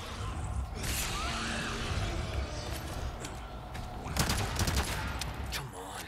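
Video game gunfire in Resident Evil 4 Remake: rapid bursts of shots over a dense, busy game soundscape, with a louder cluster of cracks toward the end and a player reacting under the action.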